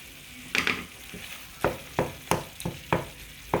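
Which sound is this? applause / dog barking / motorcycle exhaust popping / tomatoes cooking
tomatoes cooking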